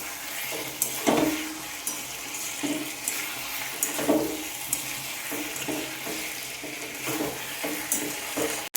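Fried pointed gourd drops into a hot frying pan, a close sizzle with a wet, watery texture, broken by several clattering stirs and scrapes at irregular intervals.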